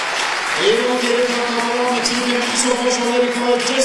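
Stadium crowd at a Diamond League men's 100m athletics meeting in Oslo, giving a loud, sustained roar of cheering and applause with a steady hum underneath. A commentator may be talking over it.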